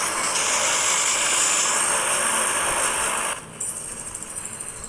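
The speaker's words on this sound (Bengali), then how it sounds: "এখন আমি সোলার ম্যাপের প্লেনে চলে এসেছি।" A plane flying over a solar map in a video game, heard as a loud, steady engine drone that drops abruptly to a quieter, wavering hum near the end.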